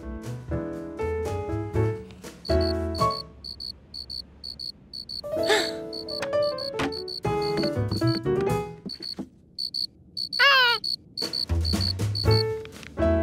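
Cartoon cricket chirps, a bright high repeating trill, recur steadily through a busy animated soundtrack of music and effects, with a brief rising whistle near the end.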